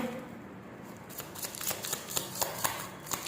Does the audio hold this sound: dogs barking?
no